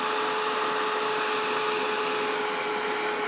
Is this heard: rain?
no